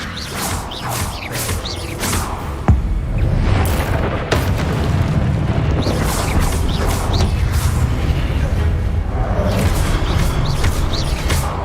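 Confringo and Incendio spell blasts in Hogwarts Legacy: repeated heavy booms and fiery crackling bursts over clanking mechanical effects, loud and continuous throughout.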